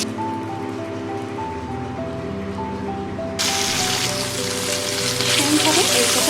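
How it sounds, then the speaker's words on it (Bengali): Hilsa fish frying in oil: a loud, bright sizzle bursts in about halfway and holds steady, while soft tonal music plays beneath throughout. "এর প্রত্যেকটা মাছ আমি এইভাবে ভেজে নেব"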